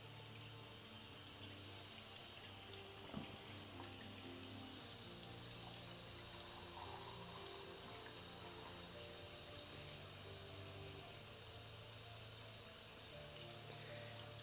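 Wash aid is poured into a film developing tank, a steady close-up stream of running liquid with faint hiss, continuous and even for the whole stretch with no voices.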